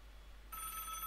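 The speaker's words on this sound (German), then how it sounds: "Night call. Telefon ist ringing." A telephone in the Five Nights at Fluffers game starts ringing halfway through with a bright electronic trill that is steady and faint over a low hum.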